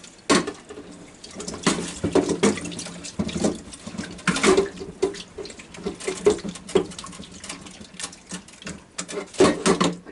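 Beetroots rinsed lightly under a running kitchen tap, a steady close splash of water over a sink with irregular bursts as the roots are turned by hand, no talking.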